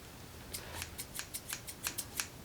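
Quick snips of scissors cutting, about ten crisp clicks in an uneven rhythm, close and fairly quiet.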